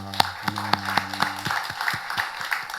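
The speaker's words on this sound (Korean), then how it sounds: "우리 살아계신 하나님께 영광의 박수 올려드리겠습니다" Church congregation giving a round of applause, heard as distinct rhythmic claps over a sustained tonal hum, moderately loud and fading slightly toward the end.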